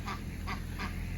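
Ducks quack three times in a steady rhythm beside a duck pond, nearby and clear over a constant background hum.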